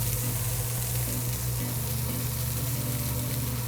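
Julienned white sweet onions sizzle in a hot oiled pan, giving a steady, close frying hiss with no talk.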